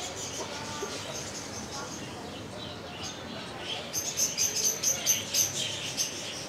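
Small caged birds in a pet store give a run of rapid high chirps and tweets in the second half, moderately near, above a low indoor hum with some talk in the background.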